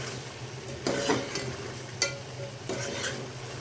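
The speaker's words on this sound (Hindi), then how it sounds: "थोड़ा सा इसमें ऑयल डाल के टिक्के में भूनूंगी ताकि इसमें शाइन आ जाए।" Chicken tikka roasting in a little oil in a pan, a steady sizzle with a few stirring scrapes and clinks at intervals, close and moderately loud.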